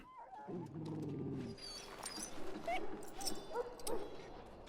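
A wounded dog in the Dragon Age: Origins video game whimpers and whines, a few soft, high yips over a low growl-like tone, close and fairly quiet with game ambience beneath.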